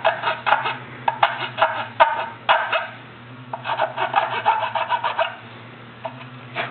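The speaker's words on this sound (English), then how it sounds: "again with the file, just a few strokes to take that sharp corner off" A hand file rasping a sharp corner off a metal part for fitting a Saiga magazine, several quick, close strokes in two bursts separated by a short pause.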